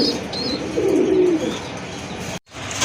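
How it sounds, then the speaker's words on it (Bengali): A pair of Indian Bombay pigeons coo nearby, a low soft rolling call with a faint chirp, alone without talk and cut by a brief dropout near the end. "এক জোড়া ইন্ডিয়ান বোম্বাই কবুতর একদম ফুল ফ্রেশ কবুতর"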